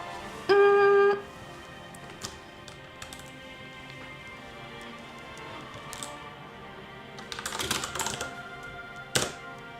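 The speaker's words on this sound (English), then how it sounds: "I'm gonna be typing." Keyboard typing while a novel is being written, with scattered key clicks and taps at moderate level and a busier burst of rapid keystrokes later, over soft fantasy background music.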